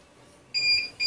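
Two sharp high electronic beeps from a CCTV DVR motion detection alarm, a long one followed by a shorter one starting, sounding close and loud after a quiet moment.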